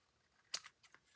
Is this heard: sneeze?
no